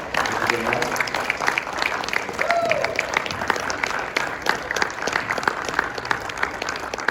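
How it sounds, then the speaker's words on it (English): An audience applauding steadily after a conference panel, a dense wash of many hands clapping for several seconds, fairly loud and close. "Give them a round of applause."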